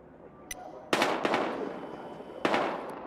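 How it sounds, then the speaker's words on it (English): Gunfire in the video game Battlefield Hardline: a faint sharp crack, then two loud broadband shots close together and another loud shot shortly after, each with a ringing tail over a low background hum. "We've got gunshots."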